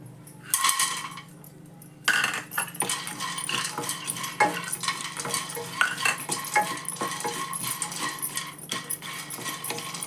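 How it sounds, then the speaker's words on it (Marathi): Roasted flax seeds are scraped and stirred out of a metal pan, producing repeated clinks and scratchy rattles of a utensil against the pan, close and fairly busy throughout. "थोडंसं शेकून घ्यायचं जवस काढून घेते"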